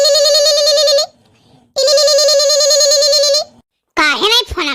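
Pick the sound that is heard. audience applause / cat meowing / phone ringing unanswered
phone ringing unanswered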